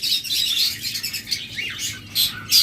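Lovebirds chirp and tweet in a steady overlapping chatter, with sharper high calls rising near the end, loud and close, with no one talking.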